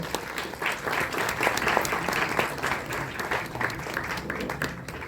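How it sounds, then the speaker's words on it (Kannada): An audience at a book launch ceremony applauding steadily for several seconds, a dense, even wash of clapping with no voices standing out. "ಒಂದು ಜೋರಾದ ಚಪ್ಪಾಳೆ ಬರಬೇಕು"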